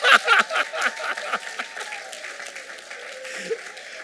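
A church congregation applauds to acclaim Jesus, a burst of clapping that swells at first and then thins out over a few seconds, with scattered voices and a lingering tone underneath.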